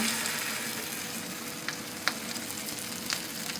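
A half-cooked lentil snack fries in oil on a gas stove, a soft, steady sizzle with a few sharp pops and spits breaking through, close by and with no talking.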